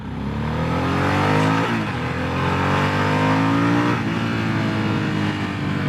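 A loud engine revs hard and climbs in pitch, easing briefly before surging again through repeated accelerations, close and continuous.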